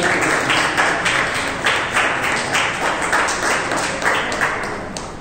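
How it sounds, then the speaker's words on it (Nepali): Audience at a Nepali cultural community gathering clapping to welcome a speaker, dense steady applause sustained throughout with sharp individual claps standing out, fading slightly toward the end. "जोरदार तालीले स्वागत गर्छु"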